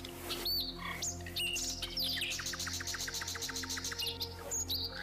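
Birds chirp and tweet nearby in bright, rapid bursts, including a fast trilling run, over a faint constant hum.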